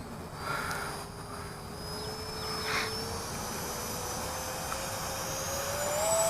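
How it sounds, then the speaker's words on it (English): A Rebel V2 RC airplane running on a 5S 2700 battery takes off at full throttle, its electric motor whining loud and steady with a slowly rising pitch as it climbs. "Full throttle, lifting right up, gears are coming up, flaps are up."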